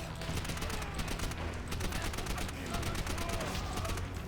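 MP40 submachine gun firing in Call of Duty: World at War, a dense, continuous stream of rapid automatic gunfire filling the whole stretch, loud and unbroken with layered battle noise.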